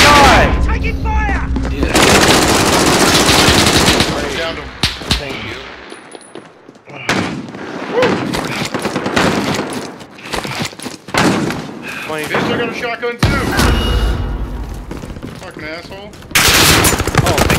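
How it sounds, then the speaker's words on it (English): Loud, dense video game gunfire with rapid machine gun bursts and heavy booms, nearly continuous with brief lulls, while a player shouts over it. "Taking fire!"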